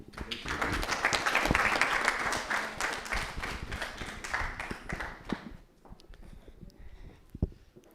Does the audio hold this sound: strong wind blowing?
no